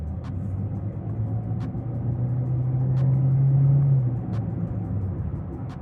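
A 2016 Chevrolet Spark LTZ with a 1.4L engine and CVT accelerating hard, a steady engine drone that rises and swells toward the middle before easing off, heard from inside with faint periodic ticks.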